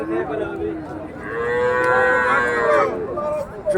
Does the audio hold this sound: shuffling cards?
no